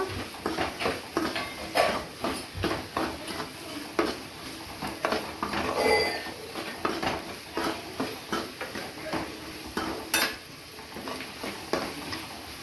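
Green chillies, capsicum and onion frying in a pan while being stirred: a soft sizzle with a regular run of scraping and clinking spatula strokes against the pan, close and steady, with no talking.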